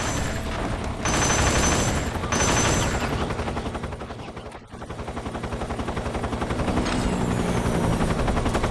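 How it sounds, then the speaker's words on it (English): In the video game Metal Gear Solid 3: Snake Eater, a helicopter's rotor thumps rapidly and loudly, mixed with bursts of gunfire, broken by a sudden cut midway and then resuming as a steady pulsing drone. "Is that another helicopter I'm hearing?"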